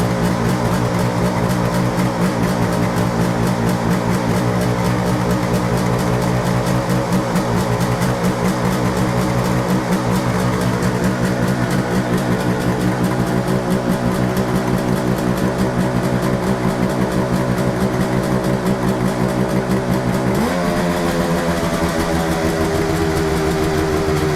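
A Suzuki GT750 motorcycle with electrical problems runs continuously close by, a steady loud idle with a slightly uneven, choked tone and a brief change in pitch near the end.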